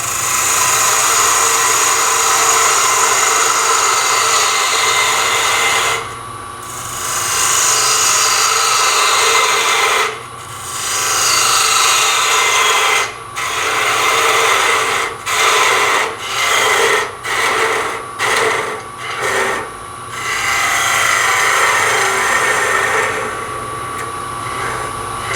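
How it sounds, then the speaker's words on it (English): Bowl gouge cutting a spinning wooden bowl on a wood lathe, a steady close scraping rasp over the motor's hum, broken by several short pauses as the tool lifts off and returns, ending in quick repeated touches. "Get out my bowl gouge, and all I'm going to do is clean up this edge and this face"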